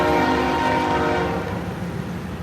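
A train rolls past close by with its horn blaring steadily, the loud sustained blast over rumbling wheels that eases slightly toward the end, no voices heard.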